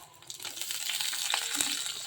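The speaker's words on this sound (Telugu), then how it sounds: "ఇది ఫ్రై అయింది కదా ఇప్పుడు మనం ఆనియన్స్ వేసుకుందాం" Onions hit hot oil for a tomato bath, giving a close, steady sizzle and crackle that builds slightly with faint stirring scrapes, with no voices.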